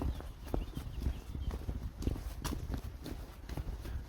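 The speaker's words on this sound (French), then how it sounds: "quand on entend des cloches, ce ne sont pas des vaches, ce sont des chevaux" Hooves clip-clop steadily on the ground as horses wearing bells walk past, quiet and a little distant, with faint irregular clinking of the bells mixed in.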